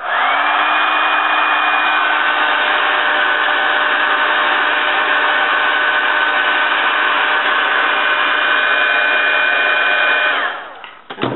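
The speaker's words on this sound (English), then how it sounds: "I'm actually going to use my heat gun because my glue isn't as tacky as I want it to be" Heat gun blowing hot air to dry glue on a handmade paper rose, a loud steady whoosh with a fan whine that runs unbroken for about ten seconds, then cuts off.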